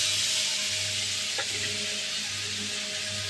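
Spices with turmeric and coriander plus hilsa-type fish frying in a wok, a steady close sizzle with a brief stirring clatter midway and no talk.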